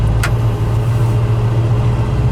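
A 1970 Plymouth GTX engine running on a cold day, about 5 degrees in Iowa, a loud, steady low rumble close by with a brief sharp click early on and no talk.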